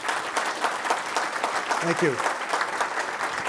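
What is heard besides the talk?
audience applause for a speaker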